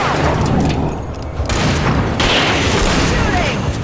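Gunfire in the video game Alan Wake: dense booming shots and crackling bursts keep going for the whole stretch, loud and close, with people shouting over the noise.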